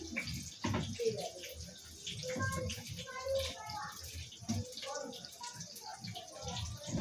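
Potatoes being washed under a running kitchen tap for a potato curry, a steady close splash of water with intermittent drips and clatter, while people talk over it throughout.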